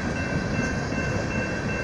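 A BNSF empty coal freight train with a distributed power unit rolls past outdoors, giving a steady, loud wash of rail and wagon rumble that holds constant throughout with no voices.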